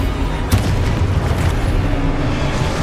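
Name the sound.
explosion from a blasting spell in the video game Hogwarts Legacy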